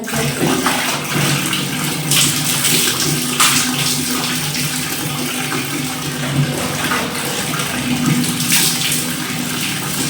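Water splashing and pouring over someone bathing, a continuous loud rushing and spattering close by with brief louder surges, no voices.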